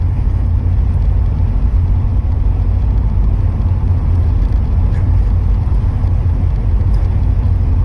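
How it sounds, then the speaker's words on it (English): A 1986 IROC-Z cruises down the road at highway speed, its engine producing a loud, steady low rumble mixed with constant road and wind noise, with no change in pace throughout. "the car runs and drives like it should."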